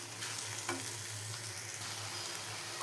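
Eggs fry in a hot pan for an egg fry dish, giving a steady loud sizzle with soft scraping of stirring throughout, no voices.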